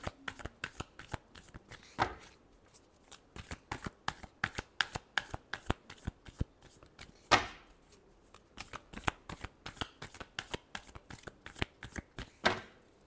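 Playing cards being shuffled by hand, a brisk run of crisp riffling flicks and taps at close range with a few louder bridge-like bursts, quiet and continuous without speech.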